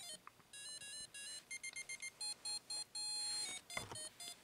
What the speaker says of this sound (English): I love the attempts to recreate the music with the, with this, the beeps and boops of the Game & Watch